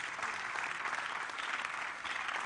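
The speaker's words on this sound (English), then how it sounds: "A thunderous round of applause." A loud, dense round of applause from a church career fair audience welcoming a panelist, continuous and steady with no talk over it.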